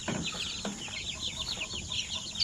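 Basilan chickens with many chicks on a backyard poultry farm in the rainy season, a busy chorus of high peeping chirps and soft clucks going on continuously at moderate distance.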